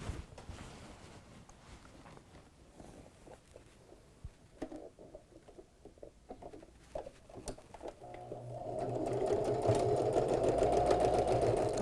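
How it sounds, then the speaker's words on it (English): A sewing machine stitches back and forth over elastic ends on a grocery bag dispenser, with light clicks and taps first, then a steady close whirring run in the last few seconds. "So now I'm just going to, on the machine, go over each end just to make sure the elastic isn't going anywhere."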